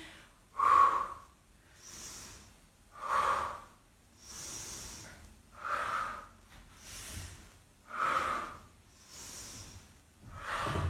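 Deep rhythmic breathing during a bodyweight full-body workout, with regular audible inhales and exhales alternating about every second, close and fairly quiet.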